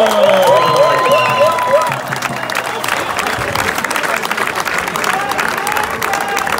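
A crowd at a basketball team's farewell party claps and cheers loudly for a player. The applause is sustained and roaring, with a whistle-like tone near the start, and talking and shouting can be heard within the noise.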